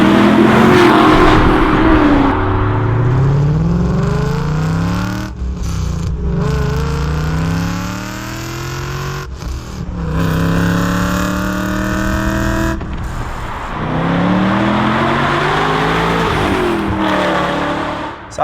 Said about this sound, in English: It's got the old E39 M5 engine, so it sounds fantastic when it's got a great exhaust in it.